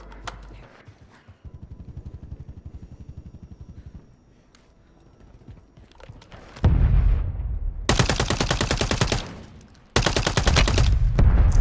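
Video game gunfire on Rebirth Island: a rapid rattle of automatic bursts starts quietly, then turns into loud, close sustained fire in two long bursts with a short gap between them.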